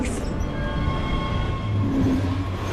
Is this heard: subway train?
yes